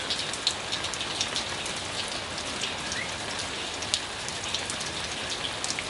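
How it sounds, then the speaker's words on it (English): Rain falling outdoors in Sedona, a dense steady hiss of drops with scattered sharper patters on nearby surfaces, continuous and unbroken. "I share this out here in the rains of Sedona to wash it away."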